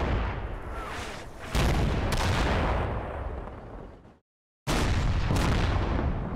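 Russian artillery strikes on Stryker units in Combat Mission: Black Sea, a heavy rumbling barrage with sharp impacts at intervals, loud and close, dropping briefly to silence before the shelling resumes.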